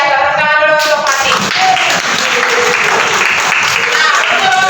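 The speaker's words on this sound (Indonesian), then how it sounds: "Tepuk tangan dulu untuk Fatih." Loud group clapping fills a classroom, with voices talking and calling out over it near the start and end.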